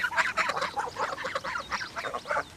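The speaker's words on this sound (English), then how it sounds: "they're super friendly geese" Friendly geese honk repeatedly in close, loud, overlapping calls, with no talk.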